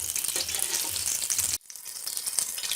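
Koftas frying in hot oil give off a dense, steady hiss and crackle that cuts off abruptly partway through, leaving a quieter, fainter sizzle afterward.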